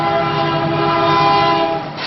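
A train's horn sounds in Carbon County as the train collides with a truck: a loud, steady, close blast held for about two seconds, with no voices.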